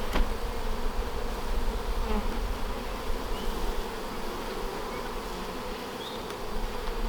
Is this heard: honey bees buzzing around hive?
yes